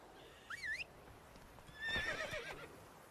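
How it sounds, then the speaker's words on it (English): A horse in The Witcher 3: Wild Hunt giving a short whinnying neigh, fairly faint and close, followed by hoof and game movement sounds. "Yeah, I think I'll jump on my horse."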